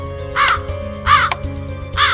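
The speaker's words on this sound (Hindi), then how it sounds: "इंसानों से पीछे छूटा तो एक कौवा पीछे पड़ गया।" A crow caws three times in a slow, evenly spaced series, each harsh call loud and close, over a faint background hum.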